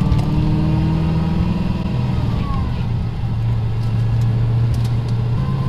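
Pontiac GTO with a manual transmission making a drag launch, its engine droning loud and close with a steady low rumble that rises a little in pitch as it accelerates, running continuously with no voices.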